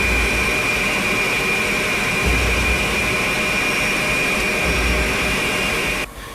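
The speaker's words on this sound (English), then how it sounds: "When the engines start, the entire plane vibrates" Jet engines of a B-52 Stratofortress bomber run with a loud, steady roar and a high whine, unbroken until a sudden drop near the end.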